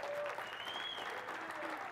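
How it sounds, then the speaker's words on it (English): A congregation at a Sunday evening church service claps in a steady, even wash of applause, heard at a distance and fairly faint throughout. "I'm inciting you to clap right now."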